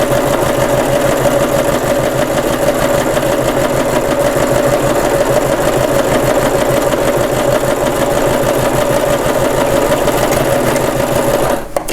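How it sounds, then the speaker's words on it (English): A sewing machine stitches straight across the top edge of an award sash, running as a steady, loud continuous whir with a fast mechanical needle rhythm for the whole stretch, stopping abruptly at the very end. "I'm gonna just sew it straight across."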